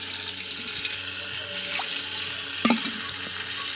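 Something is being washed under running water at home, a steady trickle and splash with a brief sharper clatter near the middle.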